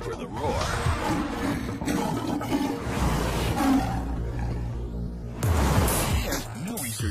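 A lion gives deep, resonant roars in the wild, heavy low grunting bursts that swell and fade, set in a wildlife documentary under continuous narration.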